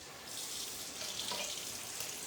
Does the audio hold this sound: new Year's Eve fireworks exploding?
no